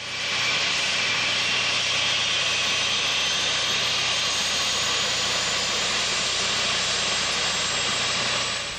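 A medical transport helicopter flies a sick baby to a distant city hospital, heard as a steady, loud broadband rotor and engine roar that holds constant throughout with no voices.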